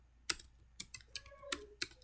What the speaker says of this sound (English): So let's just type in